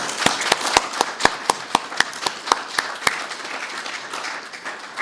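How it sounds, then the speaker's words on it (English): Applause from an audience at an evening talk on civil liberties at a community centre, sharp individual claps standing out over a steady patter for several seconds before easing off. "let's give Rick another round of applause"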